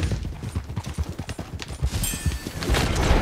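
Horses gallop in Red Dead Redemption 2 Online, with a steady rapid drumming of hoofbeats, close and continuous, mixed with bursts of game noise.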